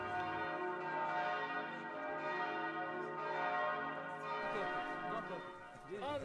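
Church bells of the Holy Sepulchre ring continuously, their overlapping tones sustained and echoing, with a faint murmur of visitors underneath.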